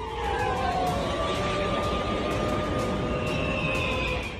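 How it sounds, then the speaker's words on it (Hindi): Wailing air raid sirens over a Ukrainian city during a Russian missile attack rise and fall over a steady wash of background noise, several tones overlapping, sounding distant and sustained. "फिर बज उठा आफत का सायरन।"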